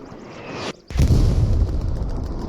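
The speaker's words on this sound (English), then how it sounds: "Also the artillery is hitting hard on the north." Artillery shells explode in a video game set on the Utah Beach map: a sudden loud blast after a brief lull, followed by a sustained, heavy rumbling roar of continued bombardment.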